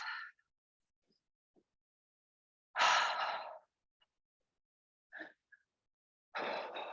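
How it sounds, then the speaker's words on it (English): Breath blown out through the mouth in a few soft, airy exhalations, two of them long and forceful, separated by quiet pauses, close and alone. "I might like to blow the breath out through the mouth"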